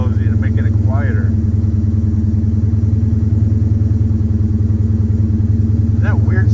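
A 1963 Ford Galaxie wagon's engine idles steadily up close, a loud low continuous rumble that eases slightly as the idle drops, with brief voices in the background.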